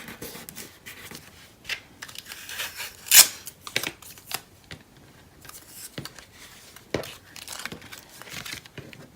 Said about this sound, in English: So let's just tape that there.